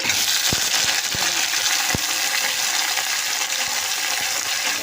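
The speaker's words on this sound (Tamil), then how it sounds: "பூண்டு இஞ்சி காஞ்சி மிளகாய் இதை மூணுத்தையும் ஆட் பண்ணி ஒரு டூ மினிட்ஸ் நல்லா வதக்கி விடலாம்" Garlic, ginger and dried red chillies sautéing in a pan for a Tamil potato curry, a dense steady hiss with a few sharp spoon taps against the pan, close and loud with no talking.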